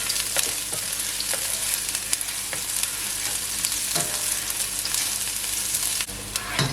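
Onions sizzle and crackle steadily in olive oil in a pot, with occasional stirring scrapes over the continuous frying hiss.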